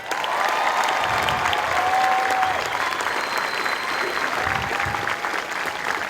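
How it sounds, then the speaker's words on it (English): Crowd applause at a US Air Force basic military training graduation ceremony, sustained broad clapping with some cheering and murmuring voices, fairly distant and steady throughout. "Give them a round of applause."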